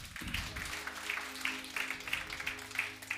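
A church congregation applauding a sermon: faint, rhythmic clapping in steady pulses about three times a second, heard over sustained low musical tones in a reverberant hall.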